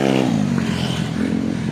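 A motorcycle on a mountain road in Tanay passes close by, its engine note rising briefly, then settling into a loud, rough, steady drone with no voices.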